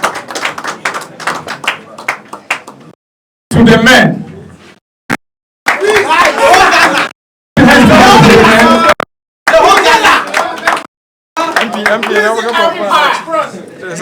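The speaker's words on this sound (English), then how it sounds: "A round of applause," Bursts of applause and cheering from a crowd, loud and full, alternating with stretches of people talking.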